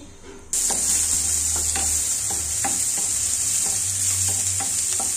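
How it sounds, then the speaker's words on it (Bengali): Onions fry in hot oil in a pan for an ash gourd bhaji. A loud, steady sizzle starts abruptly and continues throughout, with regular scraping taps from stirring. "তেলটা গরম হয়ে গেছে, পেঁয়াজটা সেদ্ধ হয়ে আসছে।"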